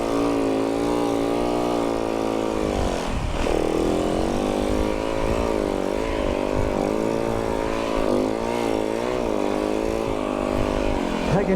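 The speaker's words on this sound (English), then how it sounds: "I can hear motorbikes" Loud, steady engine drone with rumbling low end and shifting revving tones, like motorbikes riding close by, running continuously throughout.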